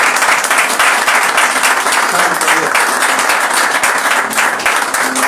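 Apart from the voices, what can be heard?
church congregation applauding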